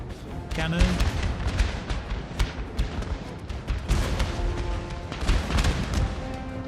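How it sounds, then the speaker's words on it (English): Cannon fire in the Napoleonic battle game Napoleon: Total War, with repeated booming blasts and crashes over a busy, noisy battlefield din. "Cannon."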